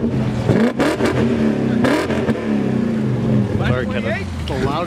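A car engine revs loudly through its exhaust, surging and dropping in pitch, close by, with voices partly underneath.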